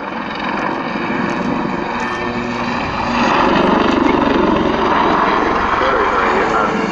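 A Westland Lynx army helicopter roars steadily during a backflip manoeuvre. The loud, continuous engine and rotor noise swells slightly partway through.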